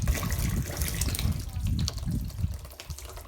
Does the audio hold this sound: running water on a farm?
yes